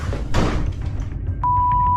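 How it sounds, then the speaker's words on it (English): A door slams shut on its own in a horror video game: one loud, close thud with a rumbling tail, followed by a steady high tone held under a quieter background. "It's getting late when a door suddenly slams shut all on its own."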